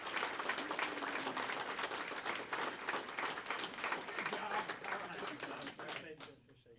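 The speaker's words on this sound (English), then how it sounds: "Round of applause." At a police awards ceremony, the audience applauds in a sustained burst of clapping that continues evenly before tapering off at the end, with a voice faintly present underneath.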